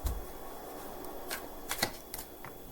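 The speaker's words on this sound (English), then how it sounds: "Another shuffle." Tarot cards are shuffled in quick, crisp riffles and soft slaps, several short bursts of card noise close by over a quiet room hiss, with no one talking.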